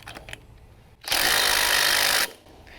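An impact gun tightens the fan nut on a John Deere GT245 lawn tractor in one loud, sustained burst of just over a second of rattling hammering, with quiet shop ambience before and after.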